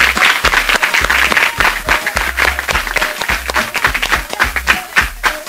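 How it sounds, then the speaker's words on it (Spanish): Loud, sustained applause and rhythmic clapping from an audience honoring a girls' dance group at a sports week event, continuous and close throughout. "ustedes merecen un aplauso de ustedes mismos"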